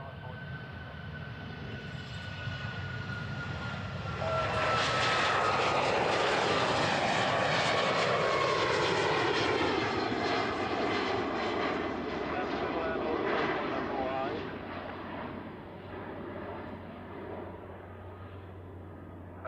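An Alaska jet airliner departs the runway at Honolulu airport, its roar building from a distant rumble to a loud, sweeping pass, then fading. Radio talk is heard over the engines.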